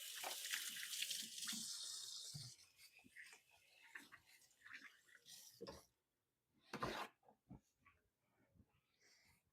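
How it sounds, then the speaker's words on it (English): Kitchen tap water running as hands get a rinse at the sink after cutting beef chunks, a soft, close splashing hiss that rises and falls, stopping briefly before starting up again. "Give my hands a little rinse."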